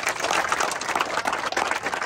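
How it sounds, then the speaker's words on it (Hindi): A group at a gym claps loudly for a man doing rope exercise during a weight-loss workout, producing a dense, steady burst of applause at close range. "जोरदार ताली मारो।"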